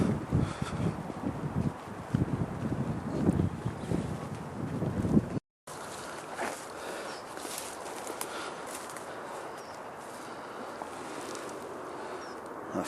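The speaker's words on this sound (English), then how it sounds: "The wind's blowing a little bit along here." Wind gusting over a microphone along a riverside greenway, loud buffeting rumble that cuts out briefly, then a steadier lighter rush of wind.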